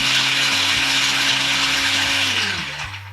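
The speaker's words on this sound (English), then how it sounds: "I already cut it up and I put it in my blender here. So I'm just going to show you how I blend it." An electric blender chops garlic in a steady loud whir with shifting pitch as the blades catch the cloves, slowing and winding down at the end.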